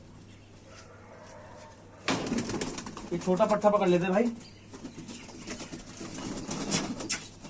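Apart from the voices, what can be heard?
pigeon cooing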